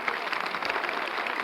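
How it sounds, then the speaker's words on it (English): An audience applauds in a radio drama, a brief, dense burst of steady clapping from a crowd. "They're applauding you."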